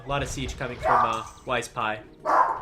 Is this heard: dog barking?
yes